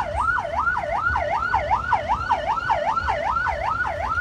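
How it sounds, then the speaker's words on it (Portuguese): An ambulance siren wails at the scene of a fatal road accident on a main avenue in Vajota, rising and falling in a steady, rapid cycle, loud and continuous over low traffic rumble. "Também uma ambulância prestando um socorro imediato."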